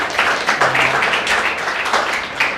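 Clapping from a group of students breaks out after a student's answer during a class interaction, a dense, steady patter of hands lasting a few seconds, fairly close and loud.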